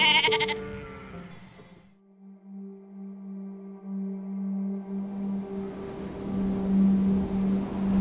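Sheep from local properties are walked to the Blackall Wool Scour in Queensland for shearing. One loud, close bleat opens, followed by a steady droning tone that swells toward the end.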